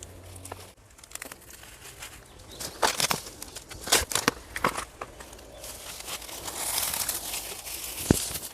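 Plastic wrap crinkles and crackles as it is pulled over a freshly chainsaw-cut tree stump outdoors, giving close, irregular rustling bursts and sharp snaps against a quiet background.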